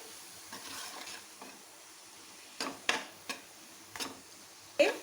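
Stuffed snake gourd with potato roasting in a spiced tempering, a faint low sizzle broken by several sharp spatula clacks and scrapes against the pan toward the end, close-up and quiet, no talking.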